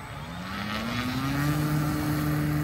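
A radio-controlled model aircraft engine at an RC fly-in revs up steadily, its droning whine climbing in pitch and holding loud and close, with no talk.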